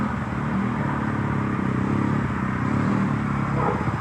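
Dirt bike fitted with a custom exhaust, riding and revving nearby with a steady, loud buzzing engine drone that holds throughout.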